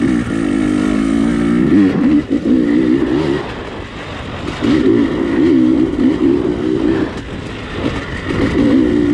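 A dirt bike engine is throttled repeatedly during riding practice, with loud, close revving bursts rising and falling in several distinct pulses separated by brief lulls.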